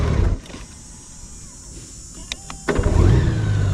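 A Honda Goldwing GL1800 motorcycle with a Stage 1+ flashed ECU starts instantly: after a quiet pause, a short whir and click lead straight into a loud, steady engine idle, close by.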